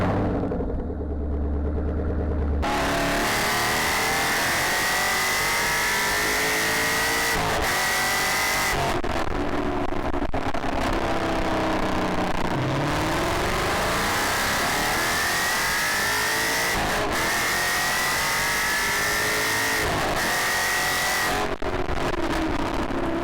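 A Ford Mustang S197 with the 5.0 engine drives along, its V8 note loud and steady with repeated rises and falls as it revs through the gears, the pitch climbing and dropping several times across the run.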